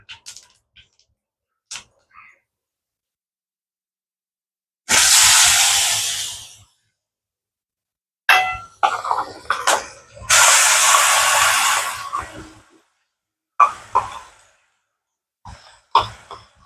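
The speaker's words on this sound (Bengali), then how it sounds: "ফোড়ন দেবো কড়াই। দারচিনি, জিরে আর একটা শুকনো লঙ্কা দিয়ে পেঁয়াজ বাটাটা দিয়ে দেবো।" Cinnamon, cumin, a dried chilli and onion paste sizzle in a hot wok for a Bengali malai katla fish curry, with two loud hissing bursts near the pan and short clatters between them, no talking.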